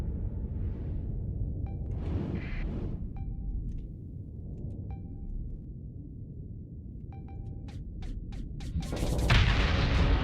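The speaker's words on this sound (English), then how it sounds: "I was too close to the explosion." Explosion in the space combat game Starsector, a booming blast with a low rumbling wash under scattered weapon clicks and short tonal blips, then a loud, dense burst of noise near the end.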